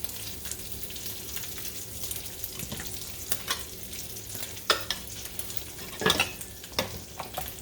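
Bacon grease heats in a pan for sausage gravy, with a soft ongoing sizzle broken by sharp spatters and clatters from the pan and utensils.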